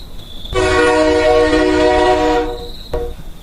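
A cartoon train sounds one loud, sustained whistle blast lasting about two seconds as it pulls into a station, with a quieter background before and after.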